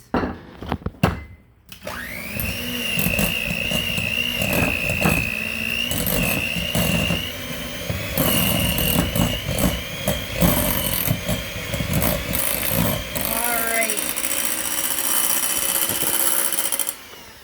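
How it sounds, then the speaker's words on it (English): Electric hand mixer beating caramel apple dip in a bowl, a steady high motor whine starting after a few clicks, holding for over ten seconds before winding down, close and fairly loud. "Give it another little mix."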